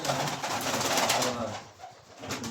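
Andijan pigeons coo close by in a low, rolling, repeated call that runs almost without pause and eases slightly near the end.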